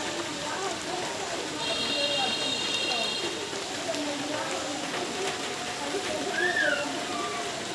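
Steady rain falls across a neighborhood flooded by rainwater, a dense continuous patter and wash with faint distant voices and a brief bird-like chirp.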